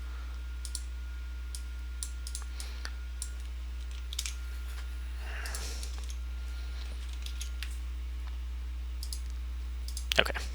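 Computer mouse and keyboard clicks tap out sparse, irregular bursts up close over a low steady electrical hum, with a soft rustle near the middle.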